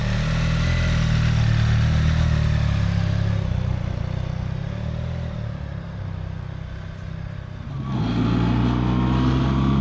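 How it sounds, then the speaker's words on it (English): A BMW R1300 GS motorcycle engine running and pulling away, a loud, close, steady rumble that eases slightly midway and then swells again as the bike gains revs. "watch me ride off into the sunset for Scotland for a change on my new R1300 GS"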